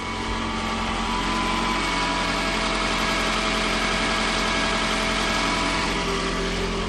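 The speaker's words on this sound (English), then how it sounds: "this one is a cold startup, so the engine is a bit more on a higher idle at the moment" A Toyota Camry engine idling steadily at a raised, fast idle after a cold start, a constant close hum with a whiny edge and no change in pitch.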